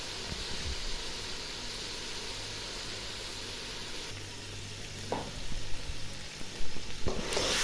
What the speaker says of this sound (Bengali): এখন এই তেলের ভিতরে মুরগিটা আমি ভালো করে কষিয়ে নেব, একবারে ভাজা ভাজা করে নেব।